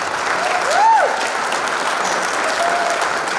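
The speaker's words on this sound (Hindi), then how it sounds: "तो मैं जोरदार तालियां चाहूंगा" Applause from an audience at a Topaz celebration, a broad steady wash of clapping with a brief whistle-like tone rising and falling near the start.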